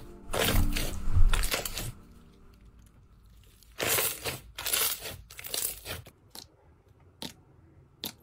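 Crunchy slime squished by hand, giving bursts of crackling, crinkling crunches that come in clusters with quiet gaps between them, close and fairly loud.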